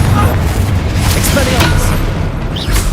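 A Confringo blast spell from Hogwarts Legacy combat, a loud booming burst with rumbling low-end and scattered crackling pops over a few seconds, a voice briefly heard within the noise.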